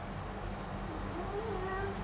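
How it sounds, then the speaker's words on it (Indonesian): A single faint cat meow rises and falls over a low background hum, quiet and somewhat distant. "Tuh, denger gak ngeong-ngeong?"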